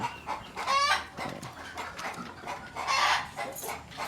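Brahma chickens cluck and call on a farm, several short squawks and clucks rising over a soft background, fairly close, with no talking.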